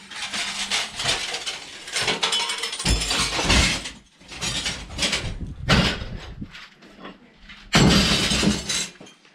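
Large pieces of broken window glass are tossed down and shatter during a home repair job, several loud crashing bursts of shards with scraping and clinking between them, close by.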